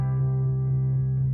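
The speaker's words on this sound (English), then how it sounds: "Sometimes bass players will play lots of 8th notes" A synthesized bass line holds a steady, buzzy low tone with a faint even pulse of eighth notes, loud and close with no other sounds.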